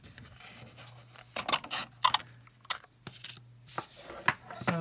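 Scissors snip through a small piece of cardstock in a few short, crisp cuts, interspersed with light paper rustling and handling under a faint steady hum.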